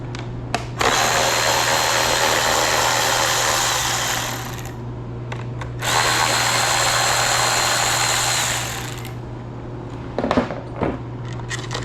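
Power tool spinning out a 10 mm bolt on the intake of an R32 Skyline, two sustained whirring bursts of several seconds each with short pauses, close and loud, over a constant low hum and a few clicks.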